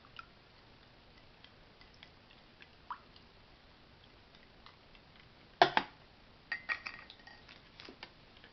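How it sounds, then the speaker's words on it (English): Coffee being stirred in a cup from a British operational ration pack breakfast menu; a quiet stretch of faint ticks gives way to a sharp clink of the spoon against the cup, followed by a run of lighter metallic taps, close and alone. "stir the coffee."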